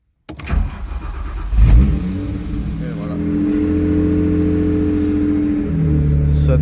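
BMW 135i E82 with N54 engine cranking and firing up: a sharp start after silence, a brief rev surge, then a steady idle hum with harmonic tones, loud and close, with a voice speaking over it.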